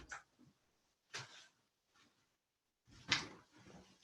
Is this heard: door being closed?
yes